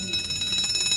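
An emergency bell in a hospital casualty department rings as a continuous, bright metallic trill, loud and steady throughout with no pause.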